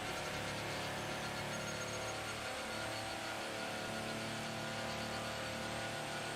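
Race car engine in the Assetto Corsa driving game, a steady loud drone with sustained high revs and a continuous whirring tone, heard alone with no talk.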